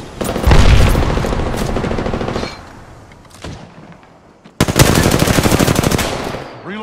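Rapid bursts of automatic gunfire in an Apex Legends firefight, loud and close, two long rattling volleys split by a short lull with scattered shots.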